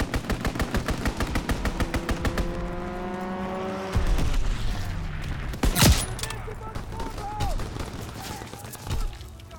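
Rapid automatic gunfire rattles in Call of Duty: WWII on PC, a dense burst at first, then scattered single shots and a sweeping engine-like roar, with faint voice chatter in the mix.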